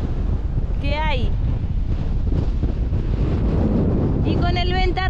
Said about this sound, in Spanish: el viento es infernal